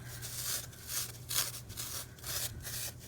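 A thumb rubs and smooths carving foam in a quiet series of soft, close scuffing strokes, roughly five or six rhythmic passes with brief pauses between them, no voices.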